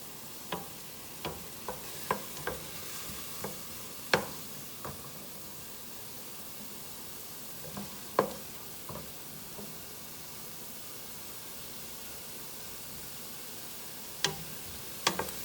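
Chicken is pushed around a greased pan with a spatula: scattered light clicks and scrapes over a soft, continuous sizzle, close by, with no talking.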